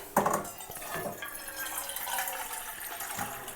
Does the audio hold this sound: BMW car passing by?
no